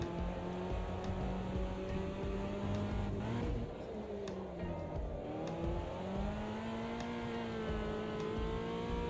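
A race car engine in Automobilista 2 revs hard and holds a steady, rising and falling whine. It drops sharply once as the driver downshifts into first gear to swing the car around, and the engine sound stays loud throughout with no talk.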